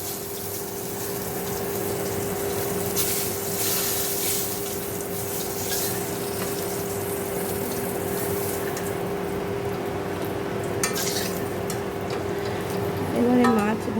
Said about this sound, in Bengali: এখানে একটা পটল 2 টুকরো করে ভাজা করছি।